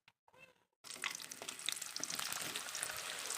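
A batch of raw jackfruit slices, seasoned with salt and turmeric, drops into hot oil and bursts into a loud, steady crackling sizzle that keeps going close by. A brief faint sound comes just before it.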